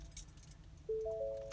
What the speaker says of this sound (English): So I'm going to turn on the truck.